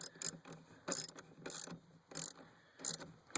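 A ratchet snugging down a 10 mm nut on the battery terminal of a BMW 3 Series, six or so quick bursts of clicking with short pauses between, close and crisp.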